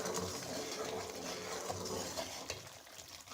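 A spoon stirring sugar syrup for Mianwali kamakhandi halwa in a pot, giving a steady close scraping and bubbling sizzle with soft clinks against the metal.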